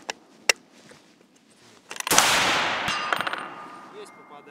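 Two sharp, faint rifle reports come first, then a loud, long shot with a bright metallic ring as the bullet strikes a steel gong 200 metres away, followed by scattered clanks and a fading rustle.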